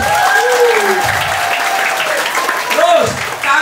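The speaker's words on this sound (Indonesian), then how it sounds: "Tepuk tangan kalian" Children at an English and character camp clap loudly together, with excited young voices calling out over the dense applause throughout.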